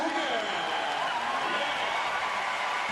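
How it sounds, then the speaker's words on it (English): A stadium crowd at the Lausanne Athletissima Diamond League meeting in the Stade Olympique cheers a women's 4x100m relay team, a steady broad roar of applause and shouting held at even loudness for the whole stretch. "Big cheer for them."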